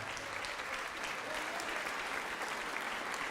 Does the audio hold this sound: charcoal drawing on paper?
no